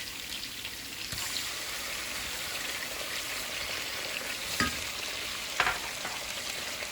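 Tomato paste sizzles and spits in a pan for kufteh, a steady fizz broken by a few louder pops and stirring scrapes, with no voices.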